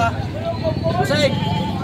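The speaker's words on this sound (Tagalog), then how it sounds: "Pangalagang kambing." Wavering goat-like bleats at a busy livestock market where young bulls and cattle are sold, several short calls close by over steady crowd babble and people talking.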